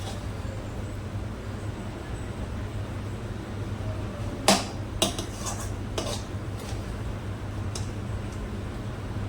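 A few sharp metallic clinks and scrapes of a utensil against a plate as cooked chutney is served, coming in a short cluster midway over a steady low kitchen hum.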